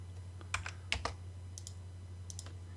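Typing on a computer keyboard while entering sketch dimensions in Inventor 3D modeling software: a few quiet, sparse key clicks in short clusters over a steady low hum, with no talking.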